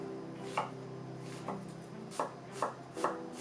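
A knife makes radial cuts through an onion, five separate crisp chops spaced irregularly over a quiet background, close and clear with no talking.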